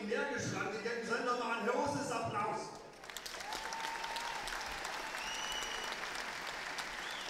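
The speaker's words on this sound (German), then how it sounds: "Kämpfer, die energisch rangegangen sind, nochmal ein großes Applaus." Applause from the crowd at a YMK Trophy fight event breaks out after an announcer speaks, then carries on as steady, moderately distant clapping with scattered crowd noise.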